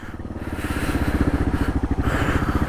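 Kawasaki KLR650 single-cylinder motorcycle ridden off-road, its engine loud and close with a pulsing, throbbing exhaust beat that rises and falls steadily, no voices over it.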